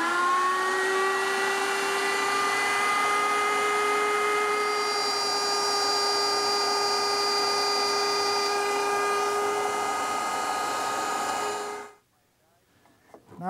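A router fitted with a 3/8 inch straight bit cuts a rabbet into wood for a Chippendale mirror. The motor whines steadily and loudly for about twelve seconds, then stops abruptly, leaving near silence.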